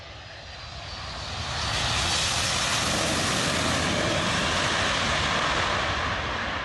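A Boeing 747's jet engines swell into a loud, broad roar as it approaches to land, holding steady and close for several seconds.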